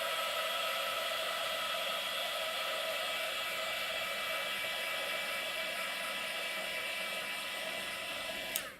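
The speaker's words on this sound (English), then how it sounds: "I just use my hairdryer." A hair dryer runs steadily with a loud, even airy whir throughout, then cuts off abruptly with a click near the end.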